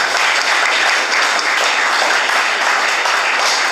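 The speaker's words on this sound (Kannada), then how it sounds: "ಚಪ್ಪಾಳೆ ತಟ್ಟಿ ಅವರಿಗೆ ಅಭಿನಂದನೆಗಳು ಸಲ್ಲಿಸಬೇಕು." Schoolchildren at a high school kabaddi event applaud an official, a dense, continuous burst of many hands clapping at once.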